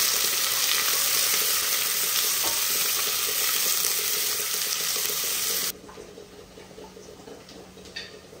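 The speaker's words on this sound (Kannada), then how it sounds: "ಈರುಳ್ಳಿ ಕೆಂಪಾಗುವ ತನಕ ಕೂಡ ಫ್ರೈ ಮಾಡ್ತಾ ಇರಬೇಕು." Onions with ginger garlic paste frying in a pan: a loud, dense sizzle that drops suddenly to a quieter crackle partway through, with a single stir knock near the end.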